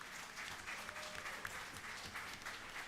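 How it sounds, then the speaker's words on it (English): A conference panel audience applauds the panelists, a steady moderate wash of clapping that holds evenly from start to finish at some distance. "Please give the panelists a round of applause for coming up here and answering questions."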